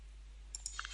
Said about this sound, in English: you can press the tab key